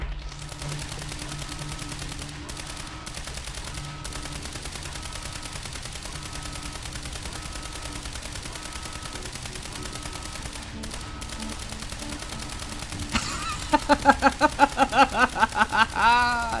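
Gunfire in the video game Quantum Break: a steady stretch of game ambience gives way near the end to a burst of rapid, evenly spaced shots, loud and close.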